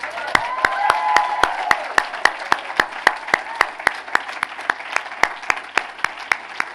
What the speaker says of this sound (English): can we give a round of applause for Geraldine Ferraro?